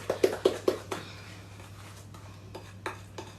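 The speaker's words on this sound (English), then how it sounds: "just keep stirring it until it's all mixed in, because you want to beat it in." Cookie dough mixture stirred by hand in a bowl, a quick series of four rhythmic spoon knocks followed by scattered softer scrapes and taps over a low steady hum.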